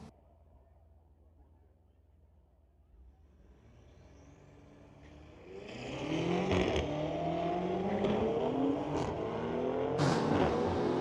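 Street legal drag race cars, including a BMW, at Mission Raceway Park: after a quiet start an engine roars up loudly and revs hard through several gear changes, close and building, with faint commentary underneath.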